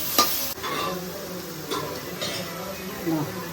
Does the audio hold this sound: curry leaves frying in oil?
yes